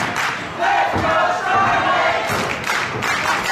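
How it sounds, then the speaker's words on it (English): A wrestling crowd at a live show roars continuously, loud and close, with thuds and shouts rising and swelling across the whole stretch. "you can hear the crowd starting to build up behind Shylynn"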